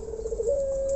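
A black turtle dove gives a single soft, sustained coo that rises slightly partway through, close and clear over faint background noise.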